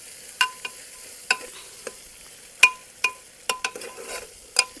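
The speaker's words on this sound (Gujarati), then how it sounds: "લસણવાળા મરચાંને આ રીતનું તેલમાં મિક્સ કરવાનું છે" Garlic chili paste is stirred into hot oil over a traditional clay stove, with a faint low sizzle beneath a series of distinct spoon taps and scrapes against the pot at irregular intervals.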